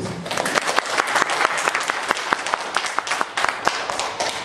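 Audience at a 2015 shareholders' meeting applauds steadily, dense clapping from many hands filling the room at close range with no pause.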